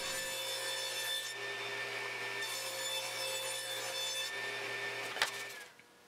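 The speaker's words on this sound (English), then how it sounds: "Then I rip down a few strips of 3/4 inch plywood, and I'll use those to make the fence." A table saw rips strips of 3/4 inch plywood with a steady, sustained whine and grinding cut lasting several seconds, loud and close, then spins down at the end.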